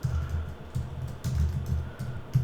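Typing HTML code on a computer keyboard: steady bursts of close, clicky keystrokes in quick runs, separated by brief pauses.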